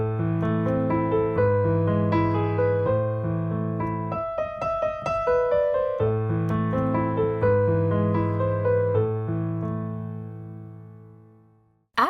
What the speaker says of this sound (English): For Für Elise, this refrain sounds like this.